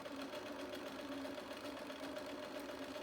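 A sewing machine stitches a straight seam along the short side of fabric, a faint, steady mechanical hum and rapid needle chatter running evenly throughout with no talk.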